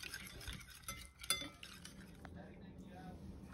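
Chicken tikka marinade with garlic paste and lemon juice being mixed, soft wet stirring with light clinks of a utensil against the bowl, fairly quiet and close.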